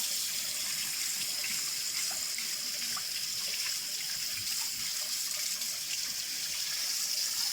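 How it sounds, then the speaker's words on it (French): Tap water running steadily into a sink while crayfish are washed, a continuous hiss and splash close by with faint clinks and movement in the water. "Bien les laver les écrevisses."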